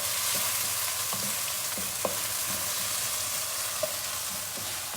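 White onion sautéing in a pan for Hong Kong style pan-fried noodles, a steady soft sizzle with a few light utensil clicks, close and alone without talk.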